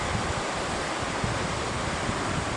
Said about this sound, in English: there's your river.